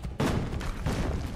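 Cannon fire booms in Assassin's Creed Brotherhood, a sudden loud blast followed by rumbling echoes and a second burst, close and dense.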